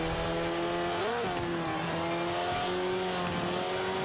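An all-wheel drive car runs a lap in Forza 5, its engine droning steadily with rising and falling revs and a brief pitch swoop as it shifts, tire noise underneath, continuous and close.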